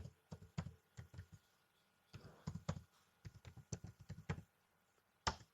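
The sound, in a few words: typing a URL on a computer keyboard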